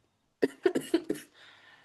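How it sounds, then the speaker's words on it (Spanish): Five quick coughs come in a close burst, near and fairly loud, then trail into a soft breath, with nothing else around them. "Tápate, hace frío, ya estás tosiendo."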